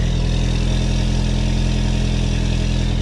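A Volkswagen Mk2 wagon's engine, just started, idles close up: a loud, steady, throbbing low rumble with an even pulse and no revving or talk.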